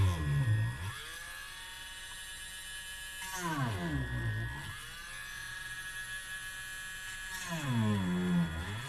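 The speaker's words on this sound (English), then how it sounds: "It's my handy dandy little Dremel." A small Dremel rotary tool cuts into a painting frame with a high, steady whine, its pitch dipping and rising again as the bit bites into the wood, three cutting passes in a row.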